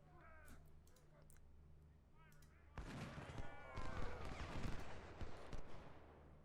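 Sharp cannon-like booms from six-pounder field guns and crackling gunfire in an Ultimate General: Civil War battle at First Bull Run, erupting loudly after a quieter stretch of distant shots and a low steady hum.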